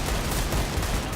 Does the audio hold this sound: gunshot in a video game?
yes